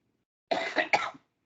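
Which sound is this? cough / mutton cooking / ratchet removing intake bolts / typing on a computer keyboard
cough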